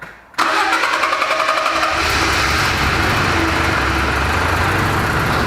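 A car engine cranks briefly and catches after a full service with fresh oil, then settles into a loud, steady idle that runs on close by, with no talk.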